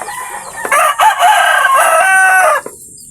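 A pet rooster crows nearby, one long cock-a-doodle-doo with a sharp, harmonically rich call that holds for about two seconds, cut off cleanly, with faint clucking from other backyard chickens around it. No one speaks.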